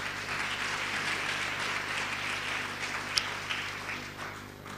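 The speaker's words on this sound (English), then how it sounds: "A big round of applause once again for Datuk Sri." An audience at a student leadership hard-talk forum applauds a guest with a steady, fairly soft wash of many hands clapping, slightly distant, and one brief sharper click near the end.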